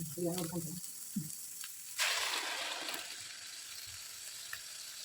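Ground masala hits hot oil in a pan for a home-style fish curry and bursts into a loud sizzle that slowly settles into steady frying. A brief voice and some stirring noises come just before it.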